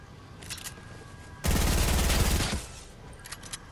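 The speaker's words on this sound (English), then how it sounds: "Use that SMG" A rapid burst of SMG gunfire in a video game lasts about a second, loud and close. Fainter shots are heard before and after it.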